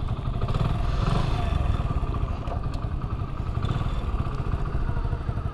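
Hero motorcycle engine running steadily at close range as the rider adds throttle and eases out the clutch, with a low, continuous rumble and light mechanical clatter throughout and no speech.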